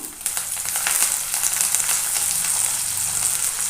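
Onions frying with curry leaves for a chickpea and tomato curry, a loud, dense hiss of sizzling oil that holds steady throughout, close up with no voices.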